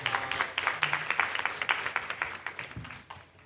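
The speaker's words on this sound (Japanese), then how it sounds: "拍手をお願いします" Audience at a lecture event in Okinawa clapping to welcome speaker Daisuke Tsuda back to the stage: rhythmic, fairly close applause that swells and then gradually tapers off.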